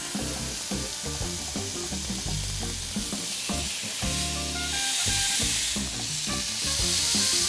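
A steak sizzles on a hot grill just after being flipped, a steady close hiss running throughout beneath a faint rhythmic background sound.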